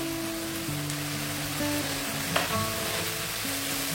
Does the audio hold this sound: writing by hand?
no